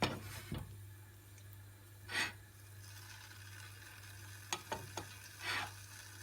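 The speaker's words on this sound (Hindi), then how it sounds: "मैंने इसमें थोड़ा सा बटर डाल के सेकने के लिए रख दिया है।" Sandwich bread toasting in butter in a pan, giving a soft, steady sizzle over a low background hum, broken by a few brief scrapes and taps from turning the bread.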